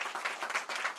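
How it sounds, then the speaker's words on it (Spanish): Audience applause closes a Spanish-language health policy panel discussion, a short, fairly soft burst of mixed clapping lasting about a second. "Un aplauso para ustedes y por todo lo que estamos."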